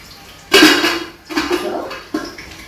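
A metal lid goes down onto a cooking pot of potatoes in a little oil, giving a loud clatter followed by two softer clanks and rattles, with no talk.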